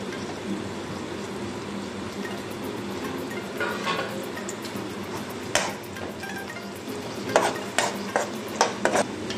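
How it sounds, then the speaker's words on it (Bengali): Raisins are added to hot oil in a pan where cashews have just fried. A steady sizzle runs throughout, with stirring scrapes and sharp metallic clinks of a spoon against the pan growing busier toward the end. "কাজুটা ভাজা হয়ে গেছে, আমি এতে কিশমিশগুলো দিয়ে দিচ্ছি"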